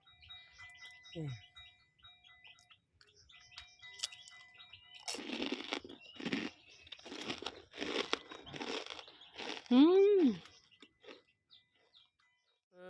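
Crispy battered, deep-fried katuk leaves crunched between the teeth in a home kitchen: a run of loud, crackly bites in quick succession, with voices and a few squeaky chirps around them.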